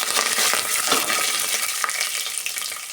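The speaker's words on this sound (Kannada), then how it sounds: "5ರಿಂದ 6 ಒಣಮೆಣಸಿನ್ಕಾಯಿ, ಸ್ವಲ್ಪ ಕರಿಬೇವಿನ ಸೊಪ್ಪು, ಅದನ್ನು ಸೇರಿಸ್ಕೊಂಡು ಚೆನ್ನಾಗಿ ಫ್ರೈ ಮಾಡ್ಕೊಳ್ಳೋಣ" Chana dal, urad dal, raw peanuts, dry red chillies and curry leaves fry in hot oil, a loud continuous sizzle and crackle with occasional stirring scrapes.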